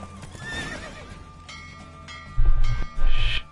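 Roach the horse gallops in a race in The Witcher game: a loud neigh near the start, then heavy, rhythmic hoofbeats pounding up close under a steady game soundtrack, with no talk.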